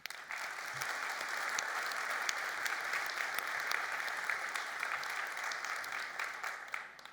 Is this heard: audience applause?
yes